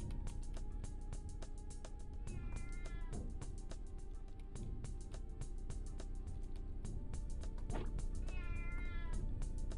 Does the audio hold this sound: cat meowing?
yes